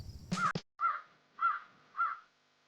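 A crow caws three times in a slow, even rhythm, each call clear and fairly close against a quiet background, after a brief burst of louder noise at the start.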